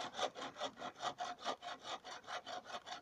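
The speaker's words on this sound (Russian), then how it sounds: "Нет, пили там, где пилил." Rhythmic back-and-forth strokes of sawing or filing on wood, about eight even rasping passes at a steady pace, close and fairly quiet with no other sound.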